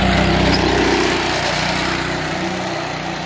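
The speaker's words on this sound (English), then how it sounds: "update on the go-kart. It's freaking running." A go-kart engine running loudly up close, a steady rough idle-like drone that holds throughout and eases slightly in volume toward the end.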